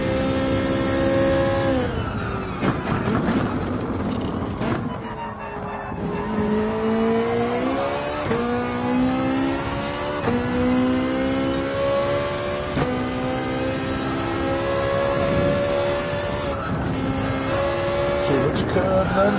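A Ferrari GR4 race car in a racing video game howls at full throttle, loud and continuous, its engine note climbing through repeated gear shifts while someone talks over it.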